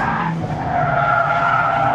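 A rear-wheel-drive Mazda MX-5 slides continuously on a race track, tires skidding in a loud sustained squeal over the steady drone of its engine.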